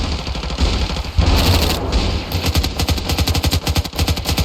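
Rapid automatic gunfire from the video game Ravenfield, a loud, dense stream of repeated shots that pauses briefly, then resumes in quick bursts. No one speaks.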